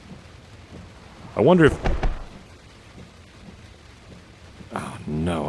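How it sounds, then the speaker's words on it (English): Heavy rain hisses steadily around a car during a drive, with low rumbling underneath, while people talk in short bursts over the downpour. "This rain is so heavy I can barely see to drive."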